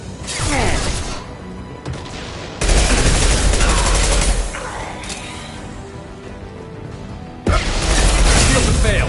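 Rapid automatic gunfire from Eclipse mercenaries in the Mass Effect 2 video game, with dense bursts breaking off and resuming over a heavy battle din while players talk.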